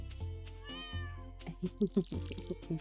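Fred, a pet cat in the Stardew Valley video game, gives a few short, soft meows near the end, set against a quiet game backdrop with brief tonal chimes.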